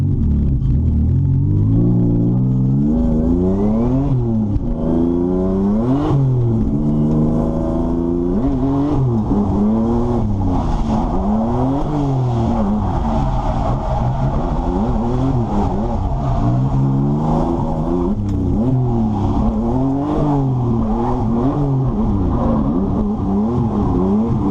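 A BMW E36 drift car on a wet competition qualifying run screams through repeated rising and falling revs, its engine wailing continuously and loudly with rhythmic surges as it throttles through the course.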